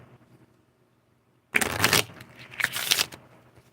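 Angel cards being shuffled by hand, two quick riffling bursts close up after a quiet pause, crisp papery flutter with no talk.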